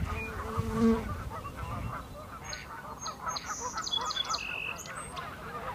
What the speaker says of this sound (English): thanks to the geese, of course, it was still pretty noisy